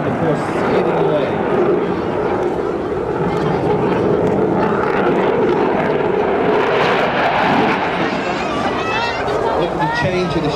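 An RAF Typhoon fighter jet flying a display at the International Ayr Show: a loud, continuous jet roar that shifts in pitch as the aircraft manoeuvres, with a commentator talking over it.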